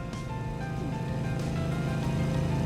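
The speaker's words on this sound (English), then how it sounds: "Ah, I know that sound of the engine." A vehicle engine idles and hums steadily in the Trails Through Daybreak video game, a low, even drone with faint tonal whine that holds throughout, with no voices.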